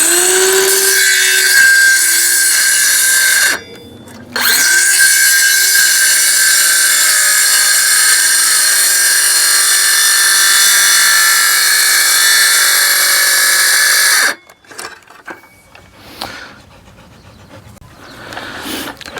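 A battery-powered saw cuts through wet wooden garden edging boards with a loud, steady whine that runs almost continuously. There is one short pause early on, then the blade stops and rattles down near the end.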